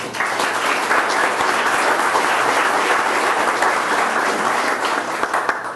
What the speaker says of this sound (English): You'll give them all a round of applause.